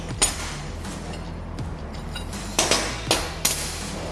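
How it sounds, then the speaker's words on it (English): Metal horseshoes clink and clatter as they are set down one after another for a towel rack, a few sharp close impacts with a quieter stretch between them. "take your horseshoes and lay them face down in an arrowhead position"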